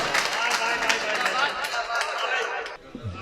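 An audience at an All India Mushaira in Asegaon welcomes a poet with loud, dense applause of many hands clapping, which fades out near the end as a voice begins.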